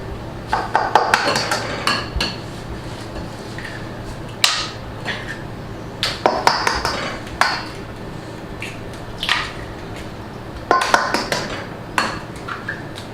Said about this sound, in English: And then we crack the 6 eggs into there